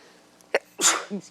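A single sharp sneeze bursts out after a faint intake of breath, fairly close and clear, with a brief vocal sound trailing right after it in an otherwise quiet room.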